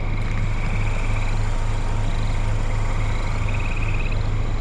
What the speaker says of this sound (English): Lots of frogs croaking out here.